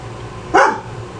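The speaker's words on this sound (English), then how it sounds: "it's past my dog's dinner time, which is why he's going to start barking at me" A single loud, close dog bark, one short sharp yelp over a quiet indoor background.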